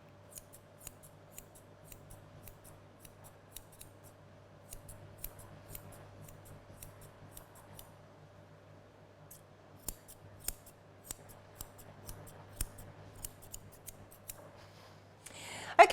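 Long 10-inch curved grooming scissors trim a poodle's top knot, giving a quiet, steady run of small snipping clicks over a low background hum, with a louder clatter at the very end.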